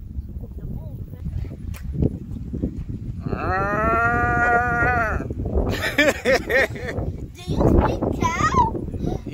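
Cattle moo loudly and close by in Louisiana, one with a single horn: a long drawn-out low call, then shorter overlapping moos, with people talking over and between them.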